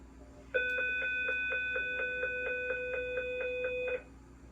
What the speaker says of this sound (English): New bell tone added.